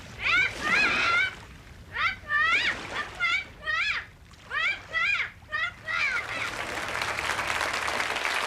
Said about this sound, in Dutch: En dat is de papegaai die je hoort.